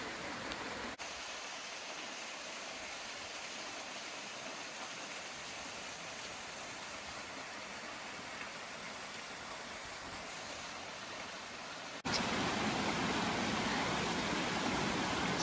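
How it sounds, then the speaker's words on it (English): Lewis Falls in Shenandoah National Park, Virginia, where water tumbles over a cliff edge, gives a steady broadband rush like hiss, heard from nearby, continuous and unchanging, growing louder toward the end with no talking. "You can see the water tumbling down."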